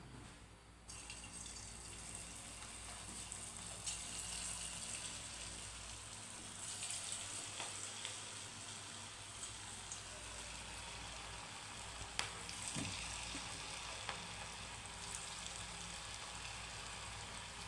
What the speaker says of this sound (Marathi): आता आपण तेलात तळूयात आपलं तेल आता गरम झालेलं आहे आता टाकू